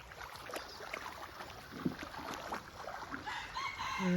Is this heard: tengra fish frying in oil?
no